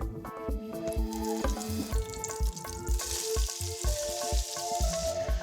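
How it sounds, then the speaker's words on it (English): Oil and a block of butter sizzle in a fondue pan, with clattering pan and stirring knocks in a steady rhythm over a bright frying hiss, close and moderately loud. "We can get a bit of oil in our fondue pan. Nice block of butter in there as well."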